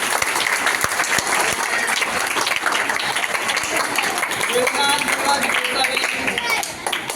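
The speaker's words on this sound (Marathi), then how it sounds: "जोरदार टाळ्या त्याच्यासाठी" Dense, sustained applause fills a school hall for a student elected chief minister in a school cabinet election, steady and loud throughout, with voices mixed into the crowd.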